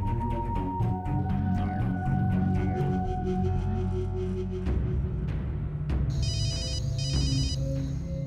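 A telephone rings loudly in a repeating electronic pattern, the tone shifting partway through, with no voices over it, in a Hindi TV drama household scene.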